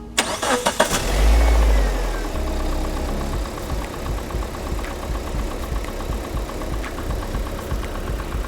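A Proton Gen 2 car engine cranks briefly and fires into life, surging loudly before it settles into a steady mid-pitched idle. The engine is recorded up close, and no one speaks.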